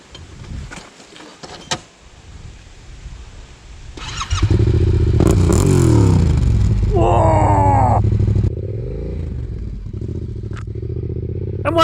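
Yamaha T7 motorcycle rides off on an Australian adventure trip; after some quiet handling clicks the engine starts and holds a loud close rumble with revving and gear-shift rises, then settles to a steady idle-like drone.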